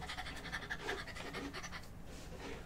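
Quick, breathy dog-like panting repeats steadily and fairly close, human panting imitating a dog while running, with short rhythmic huffs that trail off near the end.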